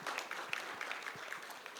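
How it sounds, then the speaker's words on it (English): An audience applauds at a college baseball signing event, a faint and fairly distant patter of scattered hand claps lasting a couple of seconds without talk. "That's definitely worth applause."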